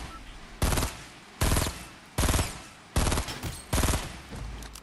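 Fortnite Battle Royale gunfire, five loud evenly spaced bursts of rapid shots, each lasting under a second, with quieter game sounds between them.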